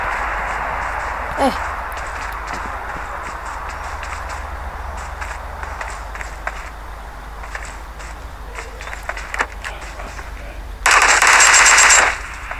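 Gunfire in the mobile battle-royale game PUBG Mobile, scattered shots under a steady background, then a loud dense burst of automatic fire near the end.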